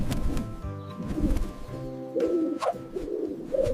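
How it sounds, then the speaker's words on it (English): Pigeon cooing close by in repeated low, throaty rolling calls, clear and isolated from any talk. "It's a pigeon."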